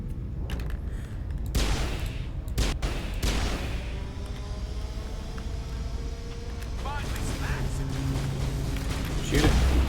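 Gunfire from the Mass Effect video game, with sharp shots and broad blasts breaking over a steady rumbling game background through a busy ten seconds, the loudest bursts clustered early and again toward the end.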